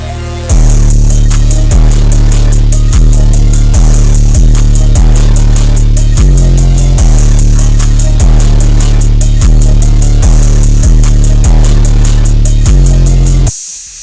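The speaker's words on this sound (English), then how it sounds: "beat sounds like this" A dark, evil-sounding trap beat made in FL Studio plays loud and steady, with heavy booming bass hits and a bright repeating top melody pulsing in a regular rhythm before ending abruptly.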